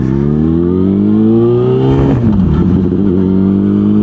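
A motorbike engine hums loudly up close, its pitch rising steadily, briefly dipping around a gear change, then climbing again while riding on a dry day.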